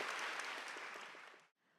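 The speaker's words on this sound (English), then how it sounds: "please give a big round of applause to our panelists" A climate summit audience applauds its panelists with steady, even clapping that holds for about a second and a half, then cuts off abruptly.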